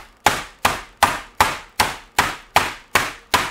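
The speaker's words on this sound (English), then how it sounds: "I'm going to take one of these meat hammers right here, and we're going to pound this out thin." A meat hammer pounds steak under plastic wrap for a Southern cheese steak sandwich: nine sharp, evenly spaced thuds, close and loud, each decaying quickly before the next.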